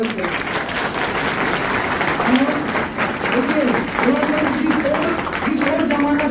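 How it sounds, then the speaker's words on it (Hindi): Steady crowd applause at a Jan Suraaj youth rally, continuous and loud throughout, with a voice speaking over the clapping. "एक बार जोरदार ताली बजा के सभी लोग स्वागत करें"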